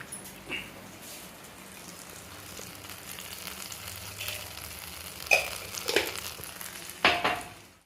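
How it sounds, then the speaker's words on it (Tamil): Onions and tomatoes sauté in oil with mustard and fenugreek seeds for a Tirunelveli-style dried fish curry. A steady, moderate sizzle runs throughout, broken by a few sharper stirring scrapes and pops near the end, with no speech. "கடுகு வெந்தயம் போடணுங்க போட்டுட்டு வெங்காயம் தக்காளி இதை நல்லா வதக்கி"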